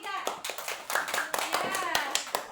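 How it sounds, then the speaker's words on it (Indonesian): Classroom applause for a student group rings out as scattered hand claps, several sharp bursts over a couple of seconds, with children's voices chattering underneath. "Tepuk tangan untuk kelompok 3."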